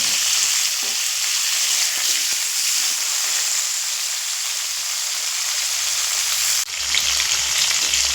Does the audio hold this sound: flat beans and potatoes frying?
yes